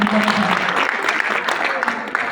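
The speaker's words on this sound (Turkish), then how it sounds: "Alkışlar bir daha necə yapılır?" Audience applause at a live stage performance, dense clapping mixed with voices and a tonal hum underneath, fairly loud and continuous.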